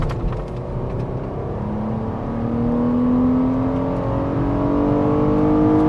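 A 2024 Nissan Murano SV under acceleration, a loud steady engine drone and whir rising slowly in pitch from inside the cabin, with no talk.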